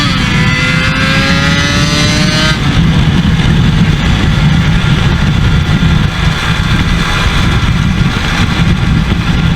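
Yamaha RD 350 two-stroke motorcycle engine, a rising rev that cuts off, then a loud, close, raspy two-stroke roar held steady to the end.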